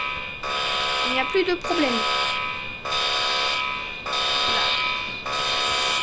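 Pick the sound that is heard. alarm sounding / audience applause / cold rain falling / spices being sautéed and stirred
alarm sounding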